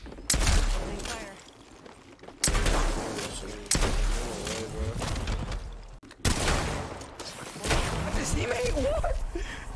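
Video game gunfire comes in loud, dense bursts of rapid shots, three main volleys separated by short pauses, with impacts and effects crowding close up.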